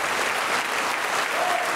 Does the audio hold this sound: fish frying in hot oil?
no